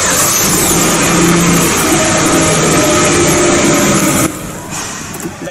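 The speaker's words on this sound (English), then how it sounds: "Remote engine start feature." A 2023 Kia Carens 1.5 idles loud and close inside a building after a remote start, a steady engine hum and whir that cuts off abruptly near the end.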